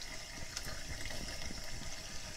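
Water runs steadily from a tap while hands are washed with soap, a soft continuous splashing hiss with small irregular splatters close by.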